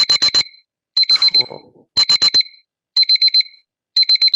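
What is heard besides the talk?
timer alarm going off at meeting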